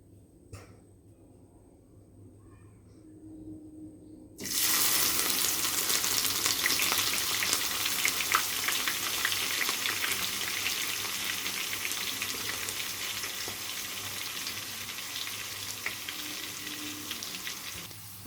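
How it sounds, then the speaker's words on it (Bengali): Carrots dropped into hot oil with dried red chilli and bay leaf, bursting into a loud, steady sizzle after a quiet start with a few faint clinks, then frying on continuously. "এদিকে তেলটা আমার গরম হয়ে গেছে, আমি গাজরগুলোকে আগে ভেজে নেব"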